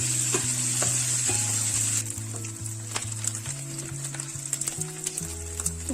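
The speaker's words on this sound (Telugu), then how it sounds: "ఉల్లిపాయ మొక్కలు టమాటా మొక్కలు పచ్చిమిరపాయ మొక్కలు మొత్తం వేసేసుకుని వేయించేస్తున్నాము" Chopped onions, tomatoes and green chillies fry in a pan for a salt fish curry, a steady sizzle with repeated scraping stirs and a low hum underneath; no voices.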